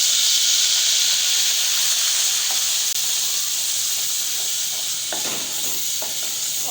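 Ginger garlic paste sizzles in hot oil for an egg curry, a steady loud hiss close by with a few faint clinks from stirring and no talking.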